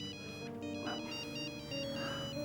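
A mobile phone rings for an incoming call, its electronic ringtone melody repeating in quick steady notes at moderate volume with no talk over it.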